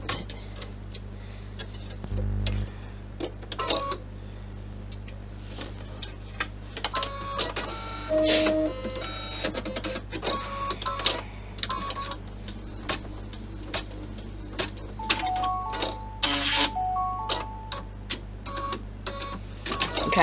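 A home embroidery machine stitches out a 6x10 clutch design, its needle mechanism chattering in steady rapid bursts with brief pauses and clicks, over a low constant motor hum, with no talk.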